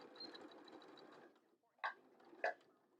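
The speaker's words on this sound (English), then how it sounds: "I'll back stitch when I get off at the top here" A sewing machine stitches fabric for a patch pocket in a steady quiet whir, stops briefly, then gives two short sharp bursts of back stitching, close and faint with no talking.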